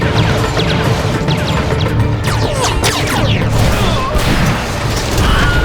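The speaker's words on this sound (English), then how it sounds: "did that spider droid shoot through the glass on the ATTE?" Blaster fire from a Star Wars: The Clone Wars spider droid cracks through the glass of an AT-TE walker, bringing a dense, continuous barrage of loud crashes, sharp zaps and clattering debris with a brief lull near the end.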